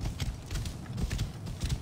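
Horse hooves clip-clop in Assassin's Creed Origins, a brisk, even run of close hoofbeats over a soft background with no talking.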